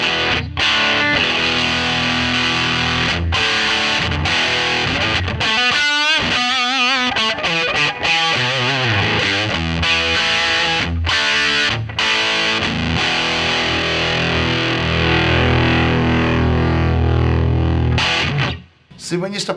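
Electric guitar through a BAM Goddess overdrive pedal at full gain, switching from single-coil to humbucker mode: a continuous, heavily distorted, compressed riff that plays loud throughout.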